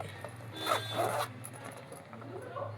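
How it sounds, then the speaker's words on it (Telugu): A zipper on a small lightweight leather handbag is pulled open close up, a short scraping zip with a few quiet rubs and handling sounds and faint background noise. "బ్యాక్ సైడ్ కూడా ఒక జిప్ ఉంది"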